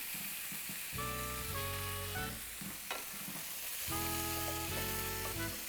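Potatoes and onions frying in a pan, a soft continuous sizzle with faint stirring, quiet and close, partly masked by steady tonal background music.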